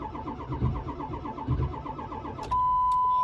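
A Ford 7.3 Powerstroke diesel truck cranks on a cold start in low-30s weather: a close, rhythmic starter churn with heavy compression pulses for about two seconds, then stops, leaving a steady tone.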